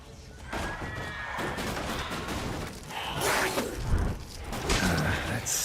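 A horse neighs in The Witcher video game amid busy in-game combat noise, a whinny rising over clattering effects and scuffling, moderately close within a dense mix.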